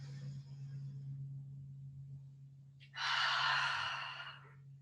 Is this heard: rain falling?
no